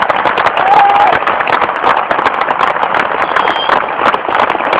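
A large crowd gathered at an RCM meeting in India breaks into loud, dense applause, sustained and close for several seconds, with a brief whistle heard over the clapping.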